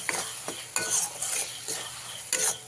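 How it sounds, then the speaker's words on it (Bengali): Spice paste with mustard sizzles in a pan for a Bengali elephant foot yam dish while a spatula stirs it in several quick scraping strokes, close and clear over a steady frying hiss. "এবারে মশলাটাকে খুব সুন্দর করে ভেজে নেব"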